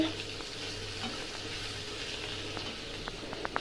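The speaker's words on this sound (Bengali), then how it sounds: "উচ্ছে দিয়ে লাউয়ের চোখলা ভাজা হচ্ছে" Bitter gourd and bottle gourd peel fry in a pan, a steady soft sizzle of oil with a few light clicks of stirring toward the end, close but fairly quiet.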